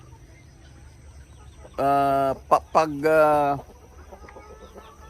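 A rooster crows loudly nearby in a chicken range with parent-stock hens, a drawn-out harmonic call broken into segments, with faint speech and low background noise around it.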